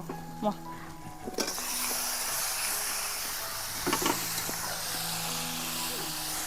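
Raw chicken hits hot fried spices in a kadai for Bengali kadai chicken, bursting into a loud, steady sizzle that holds after a quiet start, with faint talk underneath.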